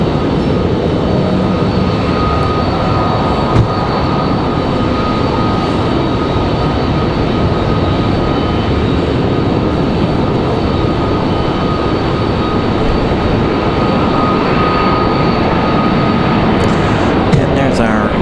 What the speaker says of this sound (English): And there's our A319 from Newark.